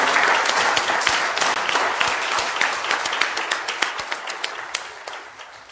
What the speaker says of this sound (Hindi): बहुत जोर से ताली बजाएं।